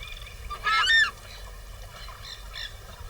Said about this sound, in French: Le Shona se distingue par son cri claironnant